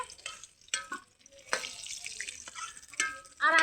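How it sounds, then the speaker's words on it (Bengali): Potatoes frying in a pan at a family picnic, with soft sizzling and a spatula scraping and clattering in irregular bursts, fairly close and moderately quiet. "আমাদের আলু ভালো করে ভাজা হয়ে গেছে, দিদি আলু কটা পাত্রে তুলে রাখছে।"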